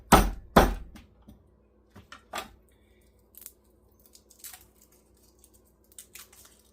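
A knife chops garlic on a board with a few sharp, close strikes up front, then sparser light taps and soft scrapes with quiet gaps between them.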